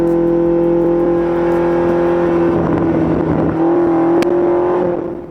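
A Range Rover Sport SV Edition 2 accelerating hard, a steady loud engine drone and whine that builds through the clip with no speech over it.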